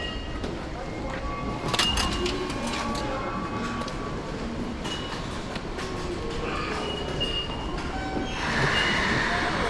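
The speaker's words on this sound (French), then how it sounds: "Et là tu peux entrer dans le métro." A Tokyo metro train on the Asakusa line rumbles and clatters in the station, with brakes or wheels squealing toward the end, while people talk nearby throughout.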